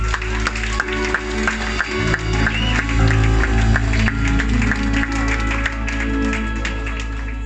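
A church congregation applauds continuously throughout, a dense wash of clapping with crowd noise and a low musical drone beneath, fairly loud and steady with no clear speech.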